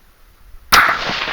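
A single sharp rifle shot from a .223 Remington loaded with 55 grain V-Max bullets cracks out abruptly after a quiet moment, followed by a loud ringing decay with no talking.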